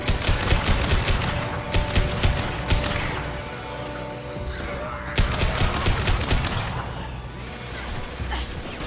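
Rapid bursts of gunfire from inferno rounds in the video game Mass Effect 2, loud, near and repeated in clustered volleys with brief lulls, alongside crashes and whooshes of combat.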